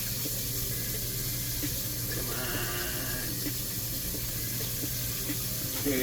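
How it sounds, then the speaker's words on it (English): Tap water runs steadily over konjac noodles being rinsed in a sink, a continuous close splashing hiss for the whole stretch with no talk. "Now I'm just, rinsing it off."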